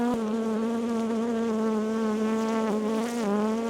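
Honey bees shaken from a hive frame buzz close by in a steady, loud drone whose pitch wavers slightly, with no one talking.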